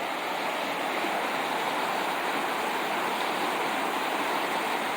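A river rushing alongside the Hood River Pipeline Trail in Oregon, a steady, full hiss of flowing water heard up close and unbroken throughout, with no talking.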